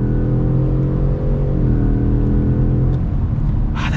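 A 2021 Ford F-150 Lariat truck accelerates hard in third gear onto a highway, its engine a loud, steady low rumble with rising harmonic tones that shift midway as revs change, heard from inside the cab.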